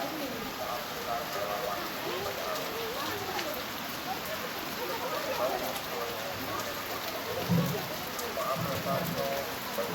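Steady rain falls on surfaces in a continuous even patter, with pigeons cooing faintly nearby and voices murmuring in the background.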